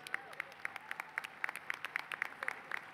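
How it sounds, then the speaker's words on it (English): Faint, scattered hand claps from an audience at a 2019 Johnson and Wales University commencement ceremony. The individual claps ring out distinctly in an uneven rhythm against quiet room noise. "take a round of applause"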